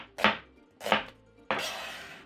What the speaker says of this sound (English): I have 1 onion. Just slice this thinly.